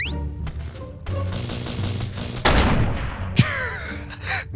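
Rapid bursts of machine gun fire crackle over a dense People Playground game soundscape, with a few sharp louder blasts standing out.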